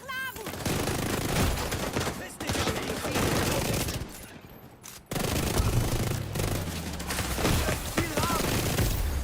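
Sustained gunfire in The Division 2: dense, continuous automatic shooting and impacts fill the scene, with a brief drop in intensity midway before heavy firing resumes.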